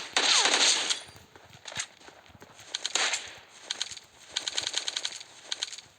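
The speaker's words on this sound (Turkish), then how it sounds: "Direkt buradan kar 98'i birine sıkıyorum" Kar98 rifle fire in PUBG Mobile Lite, a sharp game shot at the start followed by repeated bursts of rapid gunfire and clattering effects, fairly quiet.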